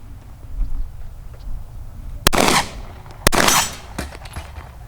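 Two sharp, loud pistol shots about a second apart from a Sig Sauer P320 M17 fitted with a red dot sight, each followed by a brief echoing tail over faint background noise.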